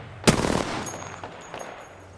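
Gunfire in a battle royale video game: a sharp close shot followed by a quick burst of rapid fire that fades, with faint electronic interface tones afterward.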